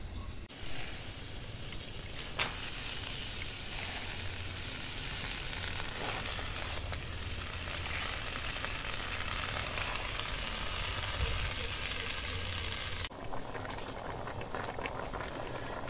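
Washed Malabar spinach leaves frying in a pan, a steady close sizzle and bubbling hiss that carries on evenly for the full stretch with a brief clatter early on.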